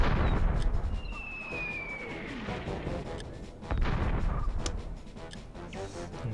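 Cannons fire in the Warhammer: Dark Omen real-time tactics game during an attack on a goblin camp, with repeated deep booming blasts and rumbling impacts over a busy battlefield din.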